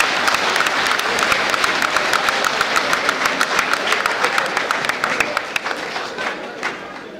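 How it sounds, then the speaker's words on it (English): A room full of police officers applauding, steady dense clapping with a few louder sharp claps standing out, holding throughout and thinning slightly near the end. "I want every living officer inside this room to give themselves a round of applause."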